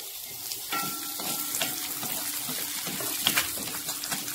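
Chopped shallots frying in oil with curry leaves for a Kerala mutton curry, a moderate, steady sizzle with light crackles and occasional stirring taps.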